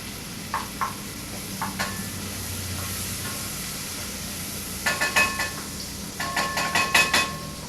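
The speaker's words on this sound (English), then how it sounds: "saute that, and we take some chopped garlic" Chopped garlic sautés with onions in a pan for homemade Italian marinara sauce, producing a constant soft sizzle with light stirring taps that turn into a quick run of clicks and scrapes toward the end.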